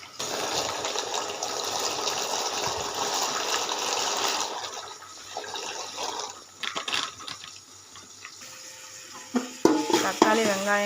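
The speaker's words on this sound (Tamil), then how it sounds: "தண்ணி காய்ச்சி கொதிக்குது. இப்போ பாஸ்தாவை இதில் கொட்டிடலாம்." Dry macaroni pasta poured into a pot of boiling water on a kitchen stove, giving a loud, steady rushing, bubbling wash for several seconds that then drops to quieter, scattered clinks and stirring.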